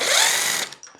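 A power tool's brief, loud whir loosens bolts on a Splach Titan electric scooter, then winds down into a few quieter mechanical clicks.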